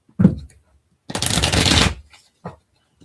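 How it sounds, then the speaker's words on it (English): Cards are shuffled in quick bursts: a short riffle, a longer ruffling shuffle, then a couple of soft taps of the deck, close and clear. "Shuffle, shuffle. Okay."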